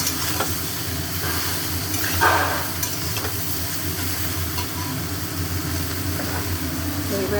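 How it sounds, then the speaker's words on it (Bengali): Ingredients being sautéed (koshano) in a pan, a continuous sizzle with scraping and stirring close by, a slightly louder burst of stirring partway through, and a low steady hum underneath. "এটা ভালো করে কষা হবে"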